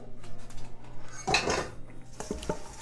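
Radicchio salad tossed with vinaigrette in a bowl, soft rustling and clattering of utensils against dishware, with a brief louder clink in the middle.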